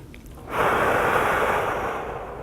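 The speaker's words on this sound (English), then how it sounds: "So you just want to do your deep breathing." One long, deep breath, drawn slowly and steadily, performed as a relaxation step in a natural vision exercise. It is heard close and alone, with no talking.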